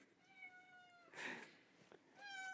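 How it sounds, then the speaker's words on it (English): A pet cat named Lilium gives a few soft, drawn-out meows close by, quiet and cute, with a brief rustle between calls. "Very cute meows"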